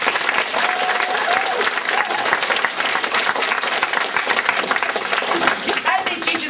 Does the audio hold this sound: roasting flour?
no